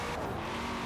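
A 1,200 horsepower rear-wheel-drive car in Forza Horizon 4 roars with a loud, sustained engine note at high revs, close and unbroken.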